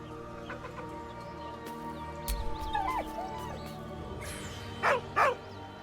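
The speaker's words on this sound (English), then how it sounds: "With a deep, heartbroken whine, the dog bows his head." A dog in Baldur's Gate 3 whines with short wavering cries over a quiet ambient game backdrop, followed by a couple of louder sharp yelps near the end.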